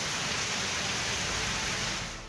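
Heavy monsoon downpour in Rajasthan, a dense steady roar of rain hammering surfaces, loud and unbroken throughout before easing slightly at the end.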